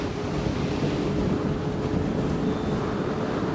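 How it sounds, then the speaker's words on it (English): Strong gusting wind at a park buffets the microphone in a constant loud, roaring rush with no letup. "And it's so freaking windy, I can hardly hear myself talk."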